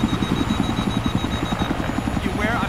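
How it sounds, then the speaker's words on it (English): A hostile helicopter flies in a military shooter video game, its rotor thumping in a steady rapid chop under a constant engine whine, loud and close throughout. "Spotted a hostile helicopter in your AO."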